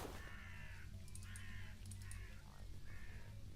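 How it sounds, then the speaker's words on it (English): Crows caw in Sir, You Are Being Hunted, a game: several harsh calls in loose bursts over a steady low ambient rumble, moderately distant and fairly faint, with no talk. "we gotta be careful with the birds if we startle them"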